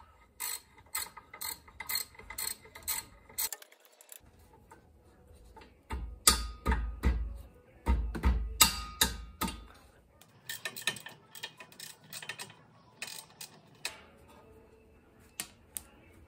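A hand ratchet works a bolt loose behind the electronic parking brake sensor on a Subaru Outback during a rear brake job, giving quick runs of sharp metallic clicks in bursts separated by short pauses, close to the listener.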